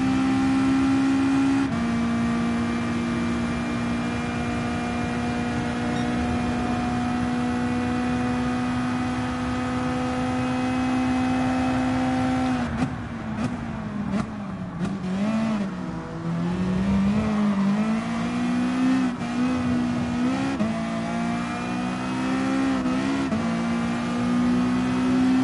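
Race car engines in the game Gran Turismo Sport, including a Honda NSX, drone at a steady high pitch with gear shifts and brief throttle changes midway, sustained and continuous with no talk.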